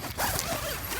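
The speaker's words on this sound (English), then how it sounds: "zipper door, pretty easy. Do with one hand." Zipper on the door of an Ozark Trail 12-person cabin tent being pulled open by one hand, a close, steady zipping rasp lasting about a second with no talk.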